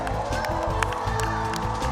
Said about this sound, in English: I think she really deserves a big round of applause